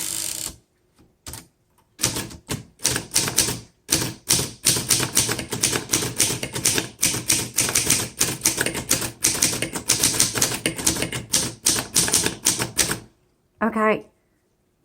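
A 1928 Underwood four-bank manual typewriter clacks in rapid bursts of sharp keystrokes, with brief pauses between runs and a carriage zip near the end.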